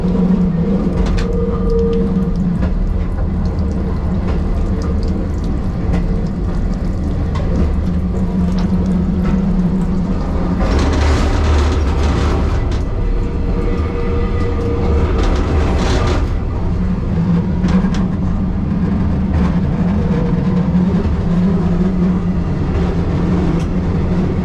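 Steady rumble of a Hungarian MÁV-START Bzmot railbus rolling along the tracks, heard from inside the carriage, with rhythmic clacking and occasional louder rattling surges.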